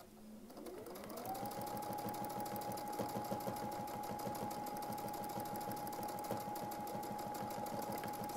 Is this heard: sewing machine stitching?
yes